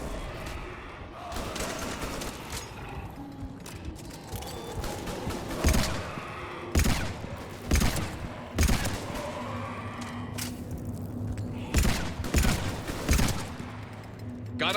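Video game gunfire pops in sharp, scattered shots across a busy battle soundscape, moderately loud over a steady background, with a player occasionally talking.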